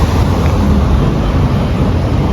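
Sea waves wash loudly and continuously beside a large wooden boat in Kuwait, with heavy wind buffeting mixed into the steady roar.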